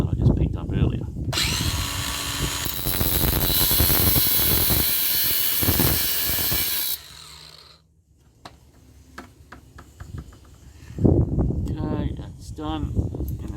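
A power tool cuts through a stainless steel door lock with a loud, harsh screaming grind for several seconds, then stops; someone speaks briefly afterward as rattling and handling noises follow.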